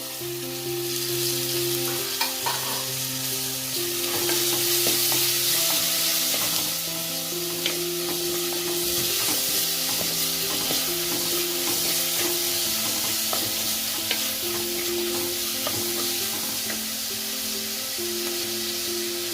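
Garlic and tomatoes sizzle steadily as they sauté in a pan for goat blood curry, a continuous close frying hiss with light stirring and no talk.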